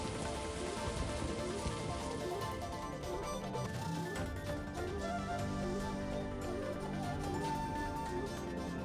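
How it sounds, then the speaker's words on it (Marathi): Heavy unseasonal rain pours steadily in Maharashtra, a dense, continuous hiss and patter of drops on surfaces with no talk, fairly even in loudness throughout. "विजांच्या कडकडाटासह जोरदार मुसळधार पाऊस कोसळतोय."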